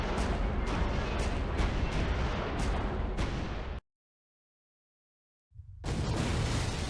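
Dense game explosions rumble in a loud, continuous barrage with sharp repeated cracks, then cut to total silence for about two seconds before the blasting resumes just as heavily.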